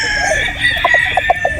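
A straight comb broodstag rooster crows close by, its call joined by a few short clucks toward the end.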